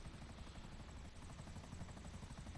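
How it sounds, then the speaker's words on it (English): A Savage attack helicopter in GTA Online flying, with a loud, steady, rapid rotor thump and engine whine throughout and no voices. "To perform this, you'll need to rock your helicopter back and forth with the left stick."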